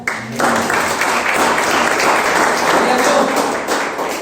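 A church congregation applauds together in a dense, loud, continuous wash of clapping that swells in and holds steady for several seconds.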